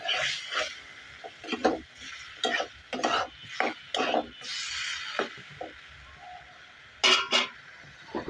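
Masala-coated eel fish being stirred in a hot pan: repeated close scraping strokes of a spatula come in irregular bursts over a steady bright sizzle of frying spice paste.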